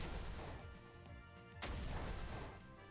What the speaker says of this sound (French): Ah, c'était explosion ça.